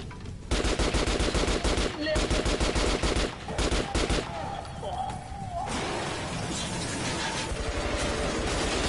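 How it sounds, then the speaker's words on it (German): Rapid automatic gunfire from enemies in the game Metro Last Light, dense bursts of loud near shots repeating over several seconds, with a voice talking over parts of it. "Können Sie jetzt aufhören, auf mich zu schießen?"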